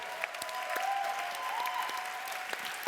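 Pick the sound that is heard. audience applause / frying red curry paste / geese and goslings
audience applause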